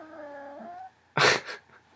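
A house cat gives a drawn-out, wavering meow lasting close to a second, fairly close and moderate in level, followed by a brief burst of louder rustling noise.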